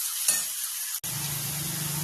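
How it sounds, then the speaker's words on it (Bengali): Garlic dropped into hot oil in a pan for a prawn and bottle gourd curry, with a sudden steady sizzle that starts after a brief stir and carries on close and even. "আমি এর মধ্যে রসুনটাকে দিয়ে দিলাম, একটু ভালো করে ভেজে নেবো"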